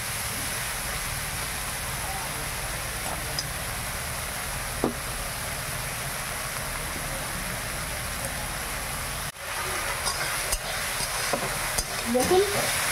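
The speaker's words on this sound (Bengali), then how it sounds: "হলুদ দিয়ে ভেজে নিই ভালো করে" Pond snails frying with turmeric in a pan alongside potato, a steady even sizzle throughout with a sudden brief drop partway, followed by scattered knocks and stirring sounds.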